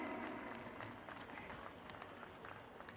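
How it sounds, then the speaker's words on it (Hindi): An audience claps at a lamp lighting ceremony, a faint, continuous patter of many hands, heard from a distance and with no voices above it. "सबसे आग्रह बा कि ताली बजा के ये दीप प्रज्वलन के साक्षी बनी"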